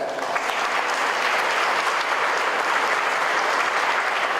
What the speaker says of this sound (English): we need to applaud him for that